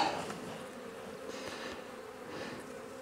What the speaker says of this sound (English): I see bees.